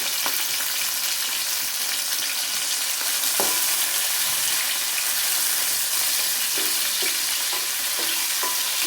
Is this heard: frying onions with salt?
yes